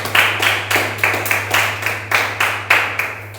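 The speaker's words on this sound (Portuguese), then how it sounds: "E as palmas louvam o nome do Senhor Jesus" Church congregation clapping in a steady rhythm, about eight sharp claps evenly spaced, with a low electrical hum running underneath.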